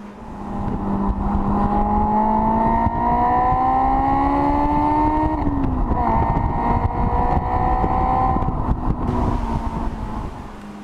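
A high-revving Honda sports car engine climbs steadily in pitch toward 9,000 rpm, drops briefly at a gear change, then climbs again, loud and close with wind noise.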